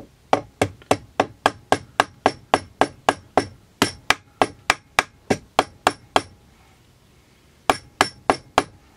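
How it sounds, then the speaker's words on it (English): A rawhide mallet taps an M-Lok handguard onto a rifle receiver in a steady run of about twenty-five sharp, close knocks, a brief pause, then four more blows. "I'm going to use a rawhide mallet to tap this in."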